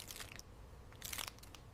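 Potato chips crunch as they are bitten and chewed, with crisp crackling bursts in two clusters, close and fairly quiet, and no voices.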